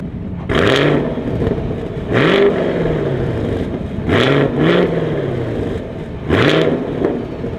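Chevrolet Camaro LT1 V8 from 2022 revved four times in succession, each throttle blip rising and falling in pitch with a deep rumble between them, loud and close.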